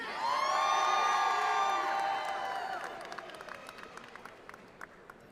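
Sustained audience applause and cheering for doctoral graduates at a spring commencement ceremony, loud at first with whoops, then fading into scattered claps.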